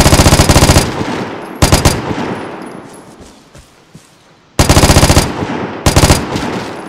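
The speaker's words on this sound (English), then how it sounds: "I'm just shooting at nothing" Automatic gunfire in the online shooter Vigor, likely an L85A1 rifle: three loud, rapid bursts of close shots, each about a second long or less, separated by quieter stretches of ambient game noise.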